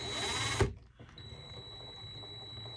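A power drill spins briefly with a loud burst near the start, then settles into a steady whine with a high tonal hum as a chucked RC car part, threaded for a Tekno SCT410 2.0 build, turns in the chuck.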